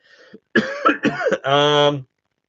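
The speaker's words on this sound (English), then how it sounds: "I do have a bit of a cough, so if I'm coughing" Coughing and throat clearing up close, a few rough bursts ending in a drawn-out voiced groan.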